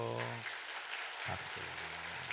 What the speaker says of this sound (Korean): 그 감동받은 만큼 어림차게 잘했다고 박수 한번 할까요?